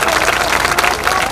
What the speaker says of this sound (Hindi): माता जी का खड़ा हो जाइए आप, जोरदार ताली बजा करके उनका स्वागत करिए।